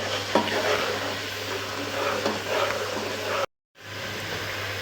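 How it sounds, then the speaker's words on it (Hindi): A masala paste fries in a pan on medium heat for chicken with peas, with a loud continuous close sizzle and a few stirring scrapes, briefly cut by a short silent gap. "4 से 5 मिनट के लिए इसको फ्राई कर देना है ताकि इनका जो कच्चापन स्मेल है वो ख़त्म हो जाए।"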